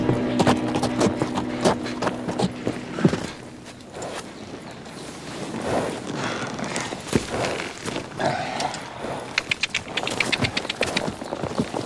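Horse hooves clop along unevenly amid rustling and scuffing, with some snorting and grunting; the pace picks up toward the end.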